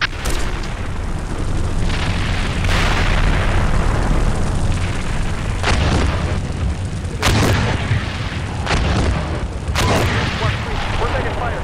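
Explosions and tank cannon fire in the tank simulator game Steel Beasts Pro, heavy booms with rumbling low-end and several sharp blasts spaced a few seconds apart, loud and close over continuous engine-like rumble, with voices talking throughout.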